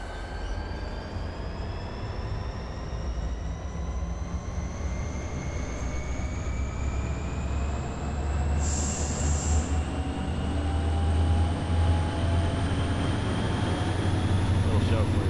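A freight train rolls steadily along the track in the Run 8 train simulator, with a continuous low rumble of wheels and cars, rising whining tones and a brief high squeal partway through.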